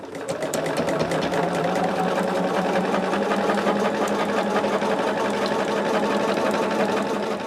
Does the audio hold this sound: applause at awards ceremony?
no